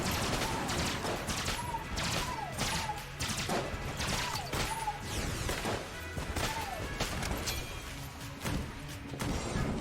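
Rapid bursts of shots from a wingman familiar companion in the roguelike shooter Enter the Gungeon, firing fast triple shots amid dense, busy combat noise with chiming pickups and continuous loud action throughout.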